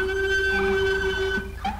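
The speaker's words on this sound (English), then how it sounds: "But as you can hear, the siren is beautiful" A Rumbler police siren mod in the video game GTA 5 wails steadily and loudly as a tonal electronic siren for nearly two seconds, shifting pitch near the end, over a low rumbling background.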